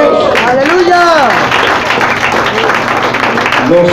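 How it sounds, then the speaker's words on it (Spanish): Loud applause from a church congregation at a worship service, with a voice calling out over the clapping. "Denle un aplauso a Dios"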